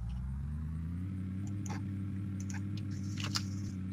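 A car driving in the video game Unturned gives a steady, close low engine drone that holds evenly throughout, with a few faint clicks and ticks on top.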